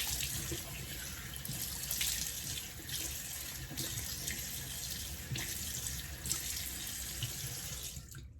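Water runs from a bathroom tap while a face is rinsed, a soft steady gushing stream with faint splashes from hands dipping in, continuing for over eight seconds with no voice.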